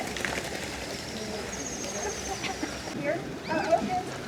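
Seabirds call and chirp in an aviary in Newport, Oregon, a cluster of short, bright notes near the end, over a steady wash of background crowd noise.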